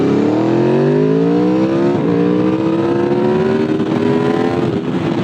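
A 2016 Aprilia RSV4 RF sportbike engine revs close and loud, its pitch climbing and falling as the RPMs change during break-in, with rising harmonic sweeps over about five seconds.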